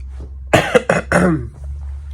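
Three sharp coughs in quick succession, close and fairly loud, over a low steady hum with no talking.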